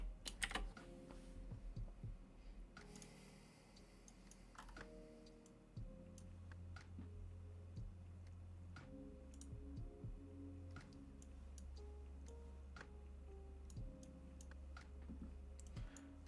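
Keys on a computer keyboard are typed in short bursts of sharp clicks during live forex trading, laid over a steady low hum and background tones, with no talk.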